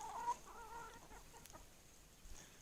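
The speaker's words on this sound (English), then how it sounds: "There's the chickies enjoying their breakfast this morning." Chickens cluck softly while eating breakfast on a farm in the morning, a few faint, short clucks near the start and then scattered quiet pecking and rustling.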